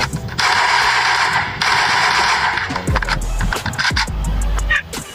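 Gunfire in the Free Fire video game, a dense rapid burst of automatic shots up close followed by scattered heavier bangs with low booms, loud and continuous.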